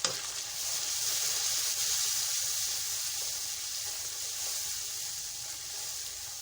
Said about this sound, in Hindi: थोड़ी देर मसाले को भूनेंगे।